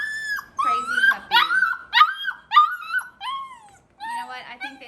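A rescue puppy at a veterinary ranch whimpers and yips in a close, rapid run of high, wavering whines and sharp yelps, broken by short pauses.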